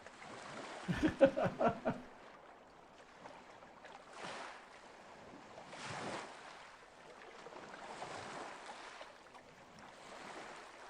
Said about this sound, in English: Can you hear the water?